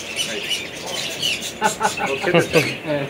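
A pet bird in a cage at home, chirping and squawking in short, sharp calls close by, while people talk over and around the calls.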